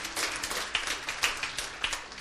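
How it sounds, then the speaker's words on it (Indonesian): A church congregation claps together at a sermon, a fairly soft, steady patter of many hands with a few sharper claps standing out, heard at a moderate distance with no speech. "Kita beri tepuk tangan untuk kebenaran ini."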